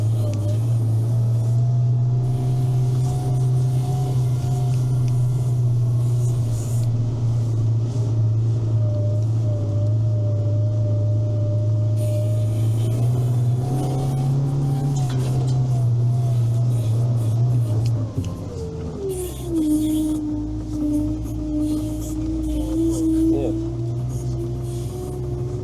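A Veter 6x6 all-terrain vehicle engine drones steadily and loud while crawling over rough terrain, then shifts to a lower, labored rumble near the end as someone talks over it.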